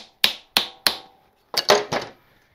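Hammer blows strike a small piece of wood held against the rear axle of a 1970 Honda CB/CL 350 motorcycle, giving three sharp, evenly spaced knocks, a pause, then a quicker cluster of three.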